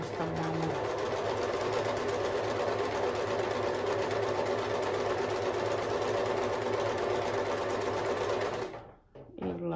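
A Pfaff Select 3.0 domestic sewing machine stitches in a fast, even whirring run for several seconds, close and steady, then stops abruptly.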